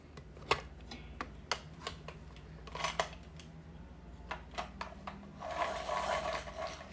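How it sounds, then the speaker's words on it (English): Colored pencils sharpened by hand, giving a run of short, crisp scraping strokes in an irregular rhythm, close and fairly quiet, that ends in a longer continuous rasp. "let me sharpen a couple of these real quick"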